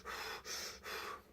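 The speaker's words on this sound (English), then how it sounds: "belly dance breathing would be just bringing your stomach out like" Three deep, airy breaths are drawn in quick succession through an open mouth while demonstrating belly breathing, each a soft rushing inhale with brief pauses between, close and quiet, no talking.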